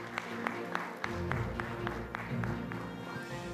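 An audience at a logistics forum gives a speaker applause, scattered distinct claps ringing out over a low hum of room noise, moderate and continuous.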